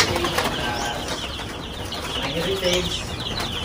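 Two-day-old chicks on a Philippine poultry farm give faint, scattered peeps under steady background noise, while someone talks over them.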